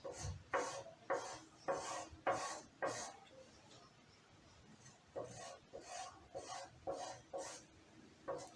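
Scissors cut freehand through blouse fabric in a run of quick, crisp snips, a short pause, then another steady burst of snipping, close by and without talk.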